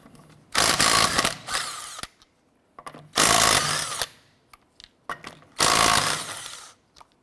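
Bursts of a power tool spinning off lug nuts with a 19mm socket on a 2006-2013 Chevrolet Impala, three loud whirring runs about a second long separated by quieter clicks and handling.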